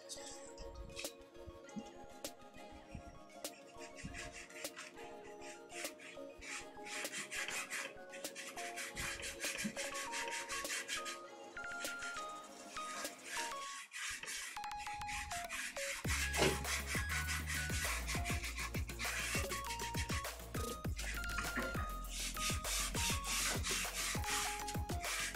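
Sanding on a yacht's surface during boat repair, a steady rough rubbing and rasping that runs continuously and fairly close, its texture shifting partway through.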